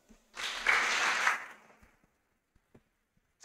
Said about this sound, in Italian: un grande applauso per lei